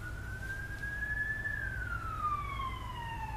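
A distant ambulance siren sends a single wailing tone rising then slowly falling over a low, rumbling background.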